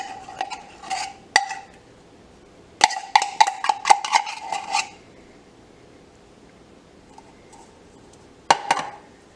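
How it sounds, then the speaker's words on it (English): Crust mixture scraped out of a pan with a utensil while making magic bars, heard as bursts of close scraping and clinking, then a pause and a final short scrape. "Scrape the pan out good."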